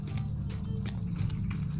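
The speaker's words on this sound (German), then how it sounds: "Ich würde dann ausnahmsweise mal mein eigenes Pferd nehmen." Horse hooves clip-clopping in the Lord of the Rings video game, a steady rhythmic trot of repeated hoof strikes at moderate, fairly faint level with no talk.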